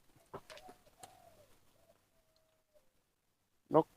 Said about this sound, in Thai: นกเขาใหญ่ชายน้ำนะครับ